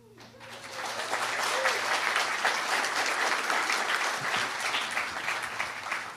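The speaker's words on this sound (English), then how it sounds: "We trust that you know you are applauding for yourselves." Studio audience applause swells quickly and holds as a steady, dense roar of many hands clapping for about six seconds, with no talk over it.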